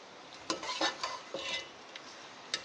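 Chicken nihari stirred in masala in a pot, a spoon scraping and clinking in several quick strokes over a low sizzle, close and moderately loud.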